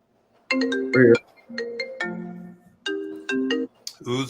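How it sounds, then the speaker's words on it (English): A mobile phone ringtone plays a repeating melodic pattern in several bursts, loud and close, with brief voices between phrases during a talk about art and makeup. "Whose phone is that?"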